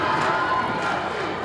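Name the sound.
crowd at a high school volleyball final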